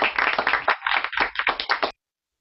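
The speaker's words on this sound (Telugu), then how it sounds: "అందరూ క్లాప్స్." Children clap together over a video call in a Zoom class: a quick, slightly uneven burst of many hands, loud and close, lasting under two seconds before stopping abruptly.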